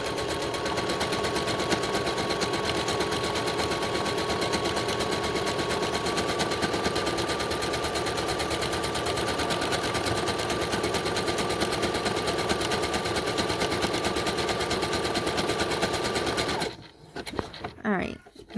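A sewing machine runs fast and steadily, stitching a buttonhole in shirt fabric with a dense rapid needle rhythm, then stops abruptly near the end with a few faint handling clicks.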